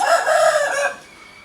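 An Indian game rooster crows once, loud and close, a strained drawn-out call that cuts off abruptly into quiet.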